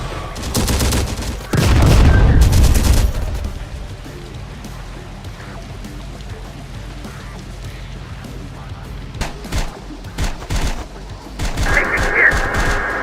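Enemy gunfire in the video game Terminator Dark Fate Defiance, bursts of rapid shots crackling loudly at the start and then fading into scattered, distant pops over a steady background rumble.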